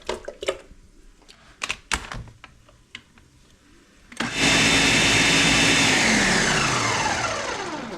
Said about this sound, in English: we're going to go ahead and blend up these plum tomato